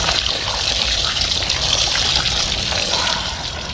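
Water splashing and trickling while a freshly caught red devil fish is washed after fishing at a reservoir, a continuous close wash of running, sloshing water.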